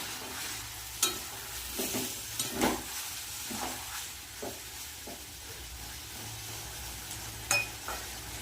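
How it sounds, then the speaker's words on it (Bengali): Small mourala fish frying with potatoes and spices in a pan, stirred with a steady low sizzle and intermittent scraping knocks of a spoon against the pan, close and moderately loud with no talking. "মশলার সাথে আলুর সাথে মাছগুলো একটু কষিয়ে নিলাম"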